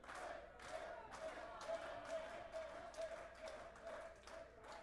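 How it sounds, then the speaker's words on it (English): Wrestling crowd at a 2017 indie match cheering and clapping in bursts, a roomy mid-distance roar of voices with rhythmic claps, urging a downed wrestler back to his feet. "Crowd trying to get Cage back to his feet here."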